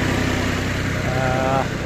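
A Korean mini tractor engine runs steadily nearby, a continuous low rumbling hum with a faint throb, while someone talks over it.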